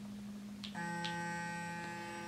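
A facial cleansing and massage device gives a faint steady electric buzz, then a higher-pitched tonal beep sounds over the hum and holds.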